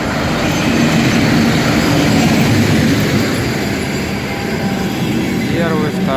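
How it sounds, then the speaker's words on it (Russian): A diesel passenger train pulls into a rural Russian railway station with a steady, close, heavy rumble of rolling cars and a thin wheel squeal toward the end, while faint voices show up briefly near the close. "Тепловозы."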